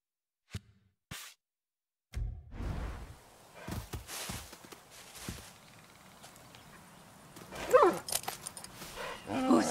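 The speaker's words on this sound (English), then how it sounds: "A good dog, huh?" A dog in the video game Far Cry 6 gives a few scattered barks and huffs amid soft footsteps and ambient game sounds, fairly quiet with brief louder bursts.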